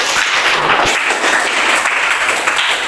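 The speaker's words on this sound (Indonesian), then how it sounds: "Beri aplaus dulu buat temannya." Steady, dense applause from a classroom of students clapping for a fellow student, loud and continuous for the whole span with no talking.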